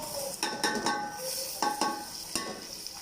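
Golden fried onions with ginger garlic paste and yogurt in a pan for beef qeema, a low sizzle under several sharp metallic clinks of a spoon stirring against the pot.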